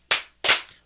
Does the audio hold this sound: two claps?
yes